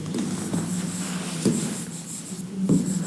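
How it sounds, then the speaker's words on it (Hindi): A pen or marker scratches across a board in short strokes, with several firmer taps and scrapes in an irregular rhythm, close and fairly quiet against a faint room hum. "देखो लिखता हूँ"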